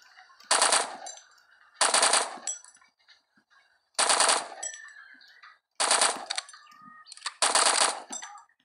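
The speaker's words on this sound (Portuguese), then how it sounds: "a Uzi, ela, a metralhadora, ela dá uma variação" Uzi submachine gun fire in the mobile game LifeAfter, shooting at balloons: five short rapid bursts separated by brief pauses, loud and sharp, with faint game effects between them.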